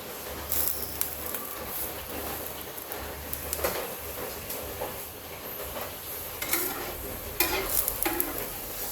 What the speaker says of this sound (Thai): ซี่โครงหมูค่ะ ผัดน้ำปลานะคะ